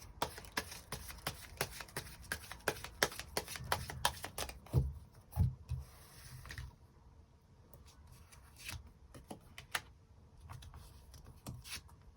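Tarot cards are shuffled and drawn by hand, giving quiet, rapid flicking and riffling clicks in quick bursts that thin out and scatter toward the end.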